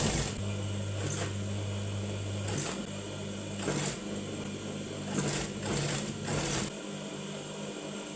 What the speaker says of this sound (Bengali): আমি চতুর্পাশে কিন্তু সেলাই দিয়ে নিলাম